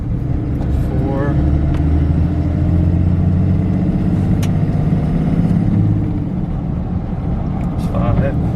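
A manual-transmission car's engine hums steadily while driving, with a low drone that eases off around the sixth second and a few faint squeaks over the top.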